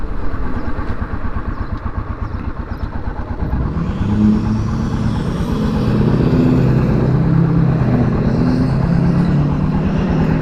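A 1987 Honda XL600R single-cylinder motorcycle engine drops a gear on the road, its steady close-up thrum shifting to a lower, louder drone midway, with wind rushing over it throughout.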